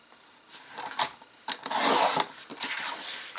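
Card stock pieces for a tri-shutter card are trimmed on a paper trimmer, giving short scraping and rubbing strokes with one longer slicing pass in the middle, close and fairly quiet, with no talk.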